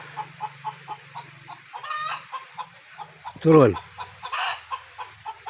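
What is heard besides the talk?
chicken clucking after laying an egg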